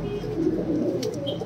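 Spotted Deobandi pigeons coo in a low, continuous murmur close up, with a couple of faint higher chirps near the end.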